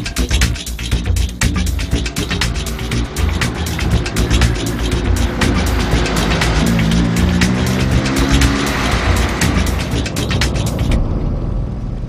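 A car in motion with a loud, close rush of engine and tire noise. Rapid clicking and rattling run through most of the stretch before it cuts off near the end.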